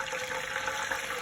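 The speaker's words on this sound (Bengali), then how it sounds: "আমি এখন সিরকা দিব, 5 মিনিটটা পুড়ে না যায়। 1 কাপ পরিমাণ" About a cup of vinegar is poured into a cooking pot for a sweet-sour apple and jujube pickle, giving a steady, close, rushing liquid stream with no break.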